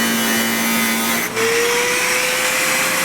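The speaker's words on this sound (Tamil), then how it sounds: "அதனால் அக்யூரேட்டாக வந்து கட்டிங் மிஷின் வச்சு நம்ம கட் பண்ணிக்கிறோம்." A cutting machine slices through a 1.5 inch pipe during a three-phase 40 hp motor service job, a loud steady grinding whine with a rising tone after a brief dip, continuous and close with no talk.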